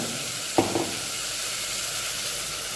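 Yogurt-marinated chicken poured into hot caramelised sugar in a pan, setting off a short burst of sizzling that settles into a steady frying hiss, with no voices.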